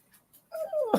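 Dexter, a spoiled puppy, lets out a short, high, wavering whimper that slides downward and ends in a brief yelp, close by after a couple of faint soft sounds.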